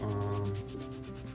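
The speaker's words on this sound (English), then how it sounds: "we're sanding on the hull to try and at least somewhat get rid of that feeling" Steady sanding of a wooden model ship hull, a continuous rough rubbing scrape with a soft rhythmic back-and-forth pulse, close and alone.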